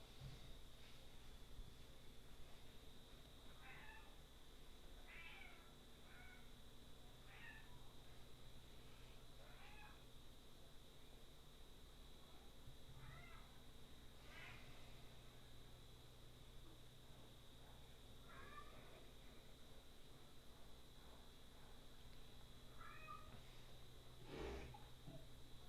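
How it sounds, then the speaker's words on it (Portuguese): Several house cats meowing indoors in the daytime, short separate calls scattered through the stretch over a steady electrical hum and background hiss, fairly faint and with no one talking. "Normalmente os gatos aqui de casa só falam quando eu dou aula à noite"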